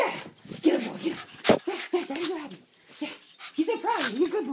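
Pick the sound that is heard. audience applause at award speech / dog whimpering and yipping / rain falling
dog whimpering and yipping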